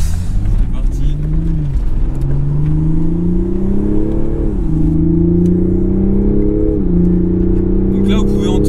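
From inside a Toyota Supra GR at Le Mans, the engine hums loudly and revs up through several gear changes, its pitch climbing, dropping briefly and climbing again.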